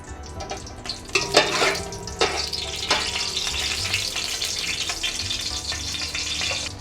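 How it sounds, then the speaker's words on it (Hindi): Green cardamom pods frying in hot ghee or oil for zarda sweet rice give a steady close sizzle and crackle, with louder bursts of stirring in the first few seconds and no voices. "अब हम इसमें डालेंगे छोटी इलायची"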